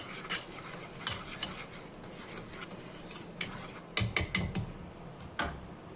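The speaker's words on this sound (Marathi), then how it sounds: "हे सगळं पुन्हा छान मिक्स करून घ्यायचं" Dhokla batter with turmeric, salt and sugar is stirred in a bowl, giving quiet scraping and rubbing with occasional spoon clinks against the side.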